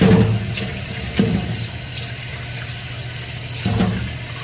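Tap water running steadily over corn on the cob in a sink, a continuous close hiss with a few brief splashes and clunks as the ears are handled.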